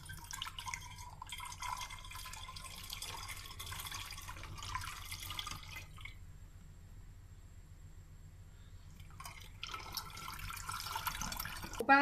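A seasoned fava bean mixture for ful is poured through a funnel into a dish, a faint, close watery trickle and dripping that fades briefly in the middle before resuming.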